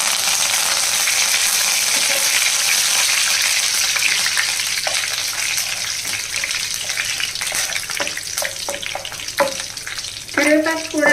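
Curry leaves frying in tempering oil with mustard seeds for a curry-leaf pickle, a steady loud sizzle with crackling pops and stirring scrapes growing busier toward the end.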